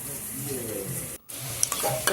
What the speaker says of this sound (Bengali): লঙ্কার গুঁড়োটা দিয়েও ভালো করে নাড়াচাড়া করে মিশিয়ে নিতে হবে